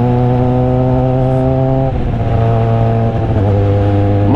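A motorcycle on the road near the Isle of Man TT course, its engine droning loud and close as it is ridden, with steady pitch and a shift partway through to a new, slightly rising tone.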